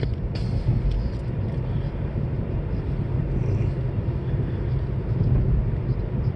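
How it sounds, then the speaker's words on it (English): A low, steady rumble of a train rolls past at a distance, continuous and even throughout, heard from inside a vehicle. "So there's a train."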